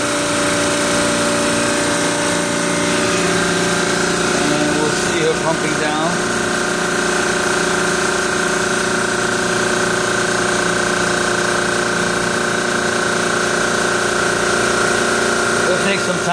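An old Carrier reciprocating compressor on a York system pumps down with large piping, a loud, constant mechanical drone and hum running without a break, with some faint talk in the background.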